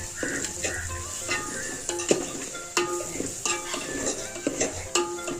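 In a pan of Telugu-style ridge gourd masala curry, coriander powder, chili powder and turmeric are stirred in with a spoon, giving repeated close metallic scrapes and clinks over a steady sizzle.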